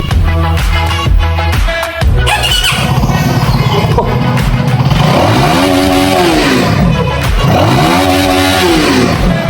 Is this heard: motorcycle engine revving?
yes